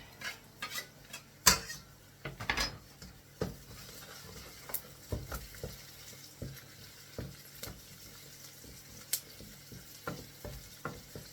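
Fresh ginger tossed into a pan, faint sizzling beneath scattered sharp clinks and knocks of utensils and cookware, irregular and close, with no talking.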